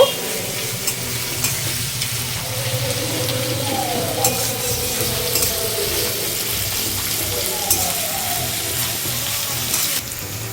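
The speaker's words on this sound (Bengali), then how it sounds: "পেঁয়াজটা আমি খুব সুন্দর করে ভেজে নেব।" Chopped onion fries in a pan with a continuous crackling sizzle, and a utensil stirs it now and then, close and fairly loud throughout.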